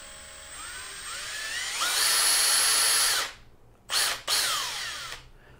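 A Makita DDF485 cordless drill whines up through rising speed to a loud steady high pitch, cuts off, then gives two short bursts before falling silent.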